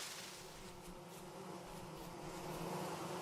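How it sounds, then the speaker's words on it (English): Bees nestled in a bush in the survival game Vintage Story give off a soft, steady buzzing hum with a faint airy wash, continuous and fairly quiet throughout. "I hear bees."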